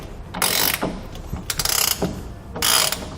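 Ratchet on a TruXedo Sentry CT hard tonneau cover clamp being tightened against a truck bed rail: three close, loud bursts of rapid metallic clicking separated by brief pauses.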